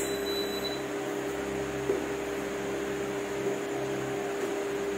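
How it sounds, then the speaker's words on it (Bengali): A home induction cooktop in a new kitchen, switched on and running with a steady low electrical hum and faint fan-like hiss, with a small click partway through and no talk. "তো ইন্ডাকশনটা তাহলে আমি ফাইনালি অন করছি"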